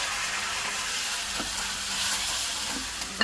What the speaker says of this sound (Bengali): এইবার দিয়ে দিচ্ছে পটলের খোসা বাটা